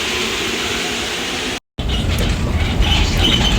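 A passenger train rides along, heard from on board as a steady rumbling roar, cut by a brief dropout, then returning louder with rattling and clattering; no speech.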